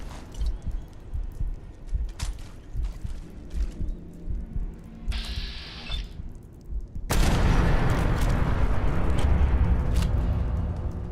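A turret in the video game Fallout 4 blows up in a loud, roaring explosion that lingers with a rumbling tail, following several seconds of rapid gunfire and crackling combat noise.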